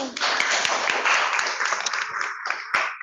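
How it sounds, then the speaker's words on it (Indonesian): Classroom applause for a student: a burst of clapping from a group of pupils that fills the room, fairly dense at first and thinning out toward the end with a few last claps. "Oke, tepuk tangan buat Aini"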